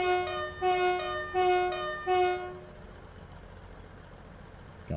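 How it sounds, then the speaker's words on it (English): Two-tone horn of a ScotRail Class 158 diesel unit in the Train Sim World game, sounding four loud sustained blasts in a steady rhythm over two and a half seconds before fading to a low engine rumble. "What does the horn sound like?"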